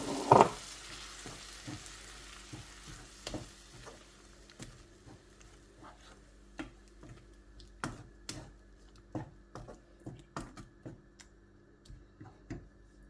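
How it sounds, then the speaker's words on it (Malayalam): Blended tomatoes (two of them) going into a sautéed masala mixture for paneer butter masala, a low sizzle under repeated sharp spoon taps and scrapes against the pan at an uneven rhythm. "നമ്മൾ തക്കാളി അടിച്ചെടുത്തത് ഈ വഴണ്ടി വെച്ചിരിക്കുന്ന മിശ്രിതത്തിലോട്ട് നമുക്കൊന്ന് ഇട്ട് കൊടുക്കാം."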